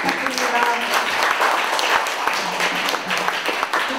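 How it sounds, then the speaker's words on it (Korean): A seated audience at a festival gathering claps steadily to welcome an introduced guest, a loud, continuous patter of many hands, with a voice speaking faintly under the applause. "여러분 박수 부탁드립니다"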